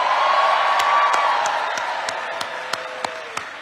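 A rally crowd in Milwaukee cheers for former President Barack Obama, a steady wash of applause and distant cheering that slowly fades, with a few sharp claps standing out near the end.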